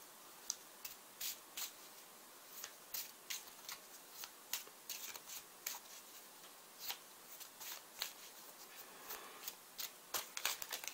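Tarot cards are shuffled and picked in a quiet room, giving a quick run of soft, crisp snaps and riffles that come in irregular bursts, close and fairly faint, with no talking.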